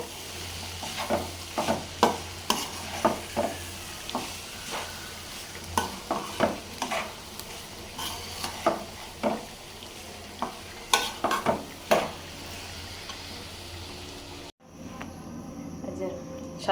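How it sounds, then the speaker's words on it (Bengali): Beef braises in a pot while a spoon stirs it, giving repeated sharp scraping knocks over a constant close sizzle, then a brief cut near the end before the sizzle resumes. "আর এইদিকে গরুর মাংস কষানো হচ্ছে"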